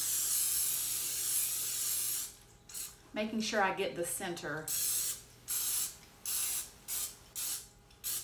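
Several short bursts of cooking spray hissing close up into a pan, with a person talking briefly in between, then a rhythmic series of quick sprays.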